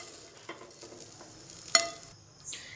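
Cashews frying in ghee in a pan give off a faint, quiet sizzle, broken by soft scraping stirs and one sharp metallic clink near the middle.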